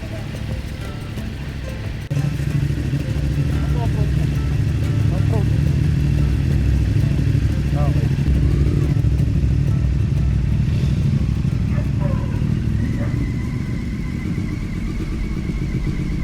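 A CFMoto 450MT motorcycle engine runs with a steady mid-pitched drone on a backroad off-road trail in Caliraya, Laguna, while someone talks over it.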